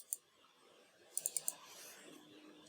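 Computer mouse clicking on a chart border in an Excel spreadsheet: one sharp click, then a quick run of four close clicks, faint and alone against a quiet room.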